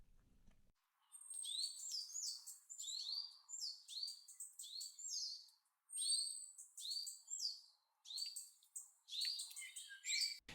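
Recorded birdsong played back in a p5.js browser sketch, with its stereo pan controlled by a slider: repeated bright chirps and warbling phrases in a steady run of bursts, clear and alone.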